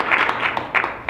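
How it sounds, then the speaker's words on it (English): A live audience at a financial education event breaks into a short burst of applause, a dense broadband patter of clapping that swells and dips over about a second. "Give everybody in here a round of applause."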